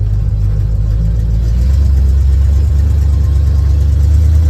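A 1985 GMC C35 crew cab truck's engine pulling uphill, starting as a low rumble and then swelling into a louder, deeper, sustained drone as the throttle opens partway through, close and unbroken, with no talking.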